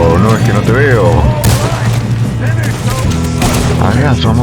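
Gunshots in Red Dead Redemption II crack out several times amid continuous game music and overlapping character speech, loud and close.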